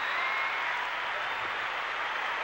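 A 1984 American Cup women's gymnastics arena crowd applauds a finished routine, a soft, even wash of distant clapping that continues without a break.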